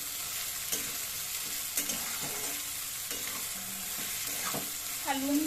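Curry leaves fry in hot oil with a steady, close sizzle, while a spoon scrapes and clinks against the pan several times as the leftover-roti breakfast is stirred.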